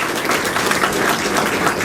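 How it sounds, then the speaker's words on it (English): A school audience claps for its teachers in a dense, steady burst of applause that fills the whole brief moment at close range. "we need to give a big round of applause to our teachers"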